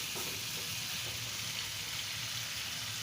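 Chicken pieces frying in a pan for a Bengali broiler chicken bhuna, a steady, fairly quiet sizzle with soft crackles throughout and no talking.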